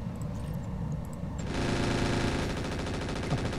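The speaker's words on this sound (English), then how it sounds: "Use the machine guns on that stealth." Rapid machine gun fire in the mech combat game Roguetech rattles in dense, continuous bursts, growing louder and fuller midway, with no talk over it.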